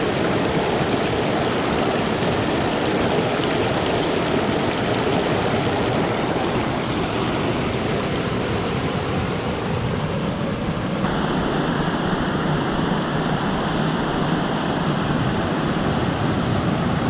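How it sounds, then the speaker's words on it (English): Rushing water pours steadily through a valley from a waterfall just below, a broad, loud, unbroken roar with no voices. "This is just above the waterfall."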